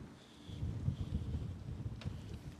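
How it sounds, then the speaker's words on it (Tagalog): Strong wind buffets the microphone with a low, steady rumble during a bike ride through the Haarlemmermeerse Bos, and a faint sharp tick sounds partway through. "Malakas na yung hangin."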